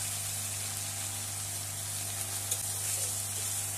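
Grated onion with ginger and garlic paste frying in hot oil with cloves and cinnamon in a pan, a steady close sizzle with faint crackles, no voices.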